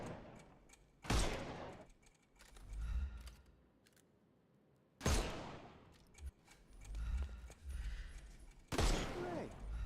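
Gunfire in the video game Sherlock Holmes Chapter One, sharp loud bursts at about one, five and nine seconds, with rumbling impacts and clatter between the shots.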